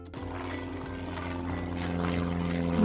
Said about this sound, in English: Correct, it's an airplane.